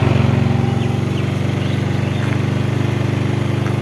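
A Yamaha Mio Sporty scooter engine idles while warming up, giving a steady, close, loud putter with an even fast rhythm and no revving.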